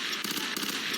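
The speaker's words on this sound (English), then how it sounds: "Oop, that's an explosion." A burst of explosion and gunfire noise from the video game Fear 3 during co-op play, a short rapid crackle of impacts lasting about a second, moderately loud with no talk.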